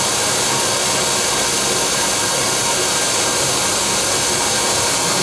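A wet vac pump runs with water flowing through clear tubing on its exhaust side, giving a loud, constant broadband roar with a steady whine and no breaks.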